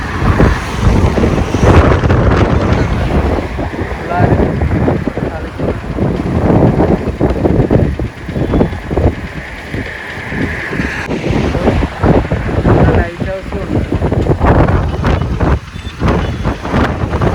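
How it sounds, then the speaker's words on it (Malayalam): Strong wind buffets the microphone in a steady roar while a vehicle moves along after rain, with someone talking over it. "നല്ല കാറ്റ് വണ്ടി മുന്നോട്ട് നീങ്ങുന്നു അതിനനുസരിച്ച്."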